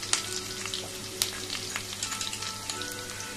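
Onions and spices frying in oil in a home kitchen, a steady close sizzle with occasional sharp stirring scrapes and spatters, no talk.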